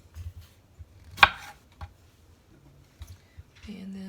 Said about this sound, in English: So just cut that part off.